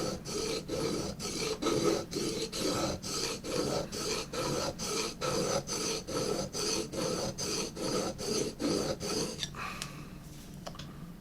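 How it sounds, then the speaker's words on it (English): Rhythmic rasping strokes of a file or sharpening stone along a metal tool edge, about twenty even back-and-forth passes close to the microphone, then trailing off into a few lighter scrapes, with no talking. "The point here is to get that edge just a little bit sharper."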